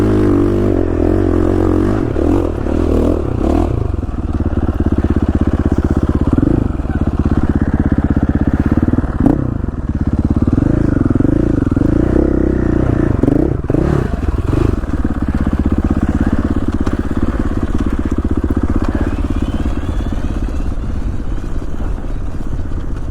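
A motorcycle rides along a foggy ridge road, its engine a steady, close, throbbing drone with wind rush and occasional rattles and bumps, continuous for the whole stretch.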